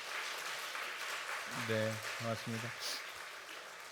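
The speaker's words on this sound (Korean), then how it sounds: "박수 한번 하시죠." A church congregation claps softly and steadily during a Sunday worship service, a low wash of applause running under a man's brief spoken greeting.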